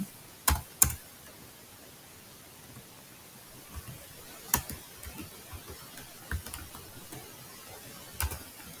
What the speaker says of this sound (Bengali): তাহলে হচ্ছে কমান্ড আমি লিখি